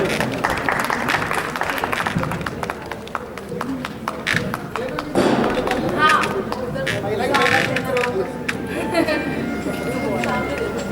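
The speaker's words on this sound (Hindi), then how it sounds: "आइए, तालियों से स्वागत कीजिए।" An audience at a national astrology conference held in a city palace in Udaipur applauds to welcome the assembled scholars, steady clapping mixed with crowd chatter and voices throughout.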